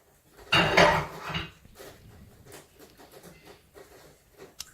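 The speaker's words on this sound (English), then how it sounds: "taking your bacon, chopping it up." Knife on a cutting board chopping bacon in a home kitchen, a loud flurry of clattering chops at first, then lighter scattered taps and scrapes, no speech.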